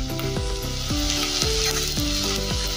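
Cumin powder sizzles in a pan for Mexican rice, a loud continuous hiss close up, while music with a rhythmic bass line plays throughout.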